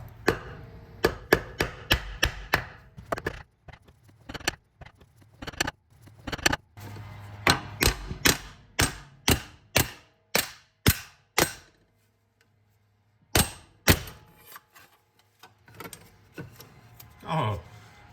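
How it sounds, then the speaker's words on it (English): Sharp wooden knocks from a hammer striking a wood block braced against a stuck clutch cable shaft on a 1972 Ferrari Dino 246 GTS, a long series of irregular close blows with a pause near the middle, then a few more. "I'm gonna try to hammer the wood to apply a load on the end of that."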